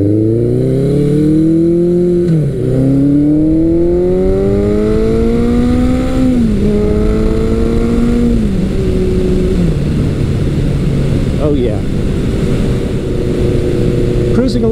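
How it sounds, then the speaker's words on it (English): A Suzuki 1100 motorcycle with an aftermarket exhaust is heard while riding. Its engine drones loud and close and rises in pitch through several gear changes, each followed by a brief dip before it climbs again, with steady wind noise under it. "I love the way this bike sounds."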